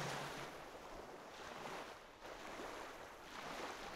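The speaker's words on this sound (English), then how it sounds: "The sea." Faint sea surf rolls in gentle repeated swells, a low hushed rush rising and falling several times with no talk.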